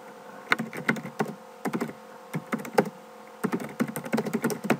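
Rapid computer-keyboard typing in bursts of clacking keystrokes separated by brief pauses, close and clear with no talking.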